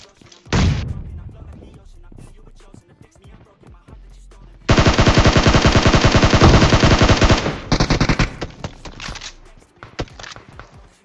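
Gunfire in PUBG Mobile: a single early shot, then a long, loud stretch of rapid automatic bursts followed by shorter volleys, with no talk.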